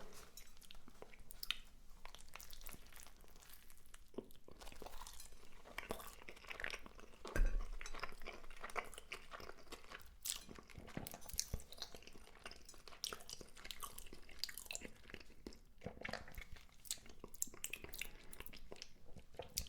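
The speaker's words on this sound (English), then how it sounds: "let's duck in to our first bite of the burger together" Close, quiet bites into a Five Guys burger followed by steady wet chewing with small crunches, plus one heavier bite partway through. Faint clinks of packaging or cutlery sit in the background, and no one speaks.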